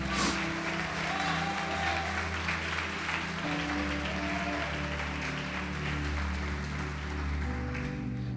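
Congregation applauding in a church, a sustained wash of clapping over a steady low organ or keyboard drone that holds throughout.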